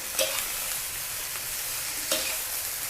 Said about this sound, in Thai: ผัดค่ะ แรกๆอ่ะ ดูเหมือนมันจะเยอะจะค้ำกระทะ พอผัดไปผัดมาสักพักมันจะยุบนะคะ